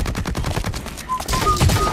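Gunfire in the shooter game BlackLight Retribution, a rapid burst of automatic shots in quick succession, loud and close.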